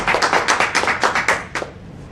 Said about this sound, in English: So with rousing applause, let's welcome Jennifer Olson to the front of the room.